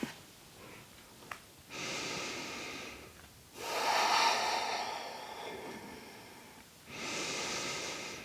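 Slow, gentle, deep breaths during a cobra yoga pose: three long, airy inhales or exhales, close and soft, separated by quiet gaps.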